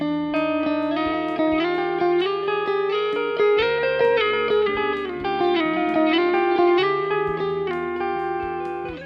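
An overdriven electric guitar walks upward through parallel seconds, close, clashing two-note intervals, notes ringing into each other with a steady, slightly messy sustain.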